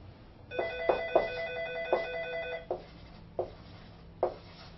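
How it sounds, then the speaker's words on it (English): A telephone rings in a classroom: a burst of electronic trills, then several separate shorter rings at spaced intervals, moderately loud with a quiet room hum underneath. "Sorry, the phone's ringing."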